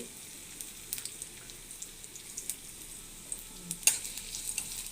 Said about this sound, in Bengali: তেলটা গরম হল। এবার আমি পেঁয়াজ কুচি এবং মরিচ কুচিগুলি দিয়ে দিচ্ছি।